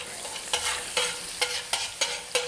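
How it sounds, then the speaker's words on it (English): Garlic browns in olive oil in a pan with a steady broadband sizzle, broken every half second or so by short, sharp stirring scrapes, close and fairly loud with no voices. "So you wanna just quickly brown your garlic. Do not burn it as well. Just put a little bit on the pan and then add some olive oil."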